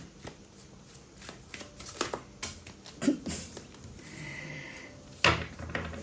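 Tarot cards shuffled by hand close up, a series of quick riffling and tapping bursts of varying loudness, with a longer riffle near the end.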